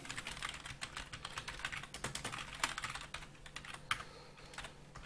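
Rapid, steady keystrokes on a computer keyboard while writing code for a React and Firebase discussion board app, close and clear with no talk over it.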